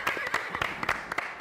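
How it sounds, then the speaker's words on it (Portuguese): Short burst of hand clapping from a small group in a casual hot-pepper challenge setting, quick uneven claps close by. "Uma salva de palmas pro cavalo, gente."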